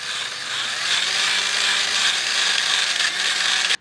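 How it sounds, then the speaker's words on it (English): A wire wheel spinning on a drill scrubs rust off a timing chain from a big block engine, a steady, harsh whirring scrape held close and loud for several seconds before it stops abruptly. "So I'm just going to take a little wire wheel and a drill,"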